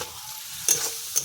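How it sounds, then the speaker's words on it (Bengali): Teasel gourd pieces tossed into sizzling mustard paste, with two sharp scraping stirs over a quiet background fizz. "এখন এটাকে কাঁকরোলগুলো দিয়ে দিচ্ছি।"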